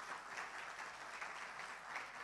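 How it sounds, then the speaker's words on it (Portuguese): Church congregation applauding, a steady wash of many hands clapping, faint and distant, continuing without break. "Você pode dar um aplauso bem forte ao Senhor?"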